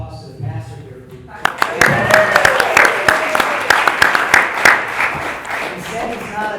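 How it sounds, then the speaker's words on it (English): Audience applause breaks out at a mayoral and district candidates forum in the City of Orange, starting after a brief moment of talk and continuing as steady clapping in a hall, with a voice speaking over it. "We need to give a round of applause to the pastor here."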